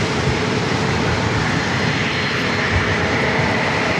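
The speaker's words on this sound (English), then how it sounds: "It's a flight to Kahului." An airliner bound for Kahului at San Diego airport produces a loud, continuous engine roar, broad and unbroken, close and dominant for several seconds.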